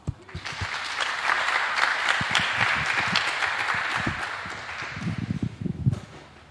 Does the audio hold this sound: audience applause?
yes